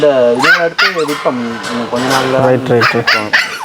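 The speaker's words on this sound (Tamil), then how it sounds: "இங்கே ஃபார்மில் வந்துட்டு பாருங்கள் ரெண்டு நாய் இருக்குது" Two dogs at a farm bark and yelp loudly and close by in quick repeated bursts, with a voice talking over them.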